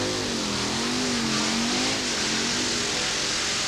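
Monster trucks race side by side at a TNT event in Bowling Green, Ohio: Bigfoot, a Ford pickup, against Gravedigger, a Chevrolet panel truck. Their engines make a loud, continuous droning roar with a slightly wavering pitch, and no one speaks.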